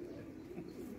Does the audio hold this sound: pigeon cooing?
yes